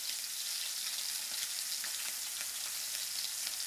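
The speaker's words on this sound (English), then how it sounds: "So you want to sear just because you want to develop color." Protein searing in a hot pan produces a dense, continuous hiss and crackle, steady and fairly quiet throughout, with no voices.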